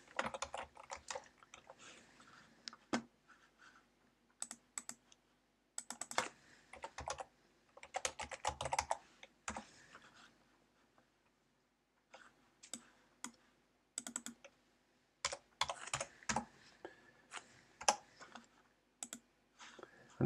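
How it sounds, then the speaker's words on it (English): Bursts of quick clicking keystrokes on a computer keyboard, typed in short flurries separated by brief silent pauses, fairly close and clear, with no talking. "Let's just type it here."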